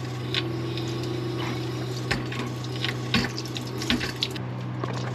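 Lukewarm running water pouring over and rinsing a camping container at a riverside campsite, a continuous tap-like gush with a few splashy bursts and bumps as the container is handled, ending abruptly.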